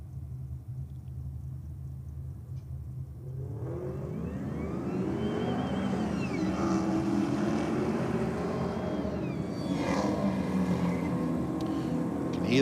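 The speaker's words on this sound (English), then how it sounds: "Hear that supercharger winding away there" A supercharged Holden Commodore wagon launching down a drag strip, its engine roar rising sharply after a quiet start, with a winding supercharger whine climbing and staying loud through the run.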